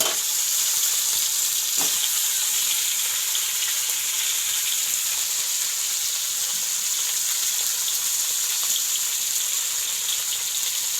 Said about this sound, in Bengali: এই পাবদা মাছটা কি ফুটছে, বাপরে প্রচুর ফুটছে, ফট ফট করে ফুটছে